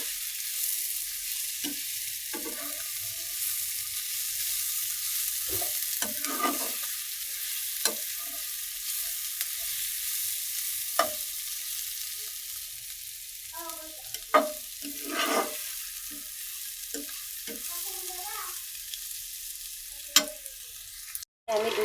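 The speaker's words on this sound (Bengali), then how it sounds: "আমি 2 রকমের মাছ ভাজি করে নিলাম" Two kinds of fish fry in a pan of hot oil with a constant bright sizzle, broken by occasional sharper pops and spatters, close and alone without talk.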